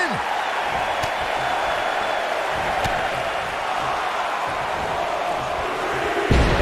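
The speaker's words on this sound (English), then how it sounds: "Listen to this crowd." A large wrestling arena crowd in the video game WWE 2K19 roars steadily throughout, a dense wash of cheering and shouting with a sharp slam thump near the end.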